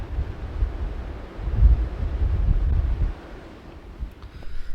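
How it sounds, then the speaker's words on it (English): Strong wind buffets the microphone atop a small pass on a muddy Forest Service road in the Colorado mountains, a low steady roar that swells into heavier gusts midway, with no talking. "Very windy out today too"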